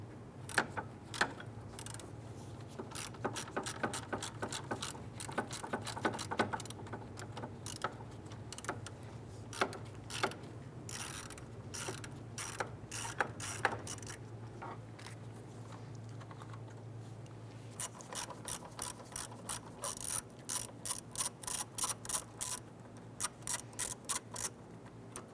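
8mm fan shroud bolts being loosened and removed on a 1995–2001 Ford Explorer, heard as quick bursts of rapid ratchet clicking that stop and start, close up and fairly quiet, with no talking.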